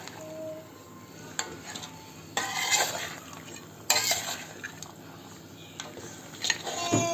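Lamb charsi karahi being stirred in a very hot pan, with spoon scrapes and clatter over a steady sizzle, louder bursts of mixing coming and going through the stretch.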